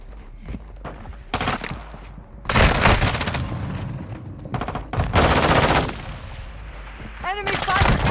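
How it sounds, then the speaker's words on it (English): Gunfire in the video game Call of Duty: Modern Warfare II: loud bursts of automatic fire and single shots crack out in clusters, some heavy and booming, with brief gaps between volleys and a short voice callout mixed in. "Enemy fire at you!"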